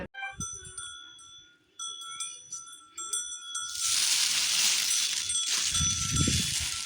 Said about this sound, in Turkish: Dedim çan sesi yaklaştı.